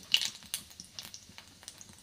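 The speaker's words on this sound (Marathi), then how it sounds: "तर मोहरी आणि जिरी छानपैकी तडतडली आहे।" Mustard seeds and cumin crackle in hot oil with quiet, scattered pops and short sizzling bursts at an uneven pace, fairly close and faint.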